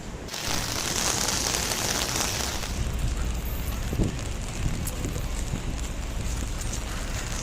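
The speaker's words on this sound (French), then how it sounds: "Et en plus, il a commencé à pleuvoir." Steady rain falls on a New York City street, a dense, even hiss that holds from start to finish after a brief quiet moment, with a few faint low thumps beneath it and no talking.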